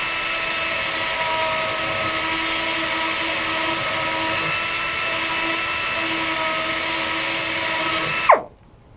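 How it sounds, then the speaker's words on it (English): A power grinder whines steadily while cutting along a crack in a boat transom down to the fiberglass, close and loud, then spins down abruptly at the end. "You just basically grind along the crack till you get down to the fiberglass."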